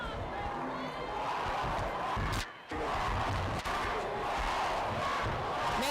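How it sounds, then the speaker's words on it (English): Fans at a Wilsonville versus Franklin varsity high school football game cheer and shout as a loud, continuous crowd roar, broken by one brief drop near the middle, while a commentator talks over it. "Man, these teams are really cheering for their Cats."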